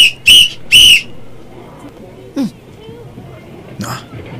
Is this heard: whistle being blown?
yes